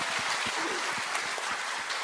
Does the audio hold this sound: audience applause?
yes